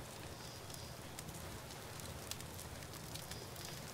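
A campfire in The Flame in the Flood crackles softly and steadily, with faint scattered pops over a constant low hiss.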